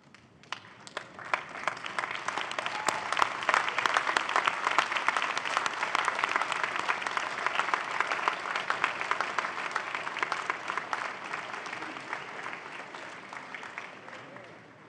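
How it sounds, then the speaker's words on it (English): Graduates applaud family and friends at a university spring convocation ceremony, a loud, sustained crowd clapping that swells after a soft start and carries on evenly for about fifteen seconds. "give them a warm round of applause for supporting your journey"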